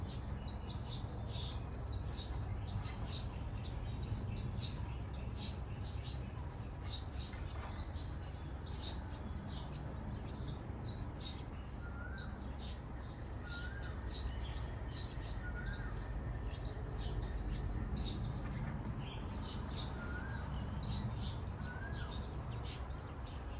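Birds calling in Thailand, including a Nok Ian, heard as repeated short chirps and whistles scattered over a steady rumble of road traffic from a big road nearby, with the calls fairly faint against the background noise.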